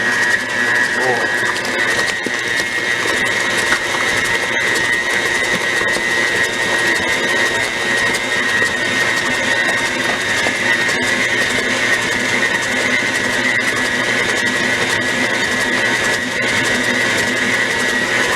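An electric mixer creams eggs into sweet potato pound cake batter, a steady high whirring drone running loud and unbroken for the whole stretch.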